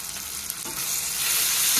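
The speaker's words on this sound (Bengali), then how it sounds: "গুঁড়ো মশলাগুলো দিয়ে ভালো করে পেঁয়াজ আর টমেটোর সাথে ভেজে নেব।" Ground spices, including salt, turmeric and Kashmiri chili powder, fry with onion and tomato in a pan for a katla fish curry, making a dense, continuous sizzle that grows slightly louder toward the end.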